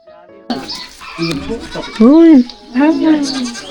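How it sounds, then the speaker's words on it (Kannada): Dwarf-breed sheep in a barn on an Amish farm bleat twice, loud and close, the second cry following shortly after the first, with a person talking in the background. "ನೋಡಿ, ಗಿಡ್ಡ ಜಾತಿಯ ಕುರಿಗಳು."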